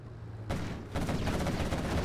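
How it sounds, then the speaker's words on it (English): Vehicle cannons fire rapidly in a competitive strategy game match: quiet ambience gives way to a sudden burst and then a second, denser onset of fast, overlapping shots that keep up a steady, loud rattling barrage. "you can hear how fast the cannons are shooting"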